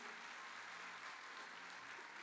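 Steady applause from an audience fills the space, a dense wash of clapping that continues without pause from start to finish.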